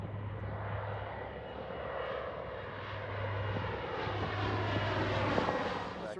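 Douglas C-47 propeller airplanes on a D-Day 75th anniversary flight to Normandy, their piston engines droning in a steady, continuous roar with a low, throbbing hum throughout, no talk.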